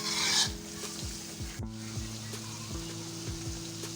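Chicken karahi with ginger being sautéed and stirred in a wok, a sizzle under regular scraping strokes of a spatula about twice a second, close and continuous, no voices.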